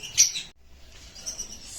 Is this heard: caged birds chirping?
yes